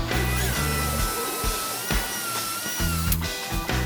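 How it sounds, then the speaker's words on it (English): An electric drill whines loudly up close in short bursts, pausing and starting again as it bites into the material. "I'm just gonna drill a hole right in the middle"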